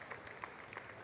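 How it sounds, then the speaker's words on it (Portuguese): An audience applauds Toshihiko Egashira of Everest Video at an Anime Friends convention stage, a brief patter of claps from a modest crowd heard at some distance with faint talk underneath. "uma salva de palmas para Toshi Egashira"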